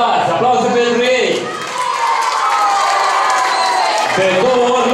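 Crowd at a dance school event cheering and applauding a winning football team, with loud shouts, whoops and voices over scattered clapping and a brief dip before the noise swells again.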